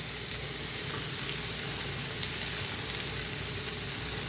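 Chopped tomatoes and salt are added to golden-brown onions in a pan for paneer butter masala, and the mix sizzles in a dense, even, loud hiss that barely changes, with one faint clink and no speech.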